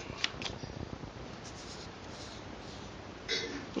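A hill symbol being drawn on paper, giving faint scratchy pen strokes and light rustling, close and quiet, with a slightly louder scrape near the end.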